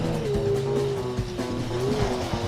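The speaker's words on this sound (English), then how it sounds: "That sounded like something went very wrong with the transmission there." A racing car engine in a video game drones steadily with a shifting, whining pitch, broken by a few thumps and rough lurches as if the transmission is straining.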